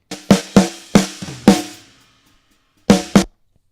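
Snare drum from a metal mix, struck alone in a short pattern of sharp, loud, cracking hits with brief ringing tails, then a pause and two final strikes.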